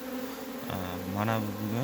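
Honeybees buzz at their hive while carrying dissolved sugar syrup, a close, continuous droning hum with rising and falling pitch as individual bees pass; someone briefly speaks over it.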